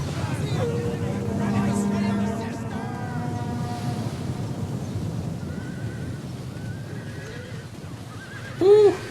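Horses in a cavalry skirmish in the video game Total War: Rome 2 let out several loud, shrill neighs and whinnies over a busy battle din of hooves, with one sharp whinny close by near the end.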